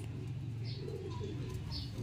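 Racing pigeons coo softly in a loft, low throaty murmurs repeating close by, with a couple of faint higher chirps or wing sounds breaking through.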